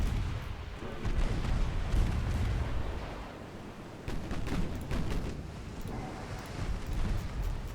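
Naval cannon fire in a Royal Navy–era warship battle game: a dense, continuous barrage of deep booming shots rumbling over one another, loud and sustained, with a brief lull around the middle before the heavy fire resumes.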